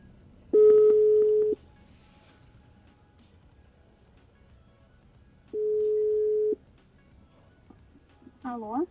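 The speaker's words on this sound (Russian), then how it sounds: "Вызов пошел." Ringback tone of an outgoing phone call played through an Android 2-DIN car head unit, two long steady beeps separated by a pause, clear and close, followed by the start of a voice.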